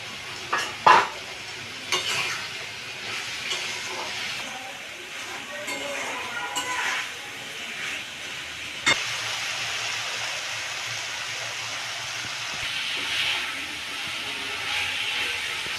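Spices with salt and turmeric sizzle in a pan while being stirred, with scraping strokes, a couple of sharp clinks and a steady frying hiss throughout.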